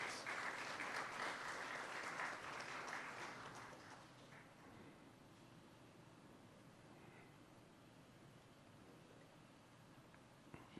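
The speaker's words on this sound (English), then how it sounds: "Please give him a round of applause." Applause at a national aviation honours ceremony in the Bahamas, loud for about four seconds and then thinning to a faint, scattered patter.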